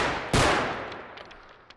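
A single sharp, loud gunshot in the Bodycam video game cracks out and rings away into a fading tail, followed by a few faint distant clicks.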